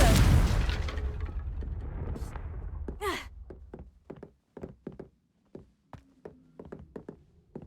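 A Confringo blasting spell from Hogwarts Legacy bursts open with a loud, rumbling explosion that fades out. It is followed by a run of scattered knocks and thuds, some near and some farther off.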